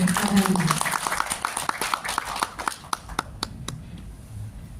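A small audience at an official ceremony claps after a plaque handover. The scattered applause trails off into separate individual claps over a few seconds, and there is faint talk at the start.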